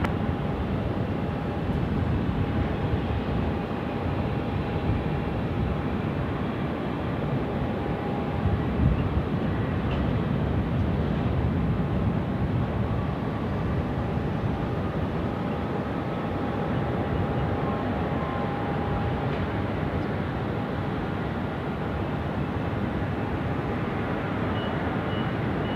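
Aircraft taking off from runway 16 right at Sydney Airport, a steady, loud, broad engine roar with a faint whine held evenly for the whole stretch, heard from a distance.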